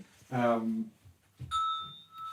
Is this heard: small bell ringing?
yes